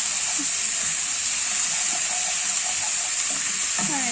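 Steady hiss and sizzle of mushrooms frying in a hot pan alongside bacon, continuous and close, with small crackles and pops breaking through now and then.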